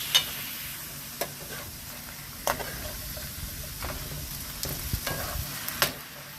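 Breakfast potatoes sizzle steadily in a frying pan while a spatula flips them, with scattered scraping taps and clicks over the close, even frying hiss.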